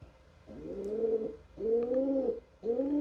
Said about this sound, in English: If you hear any noise in the background, it is my pigeon.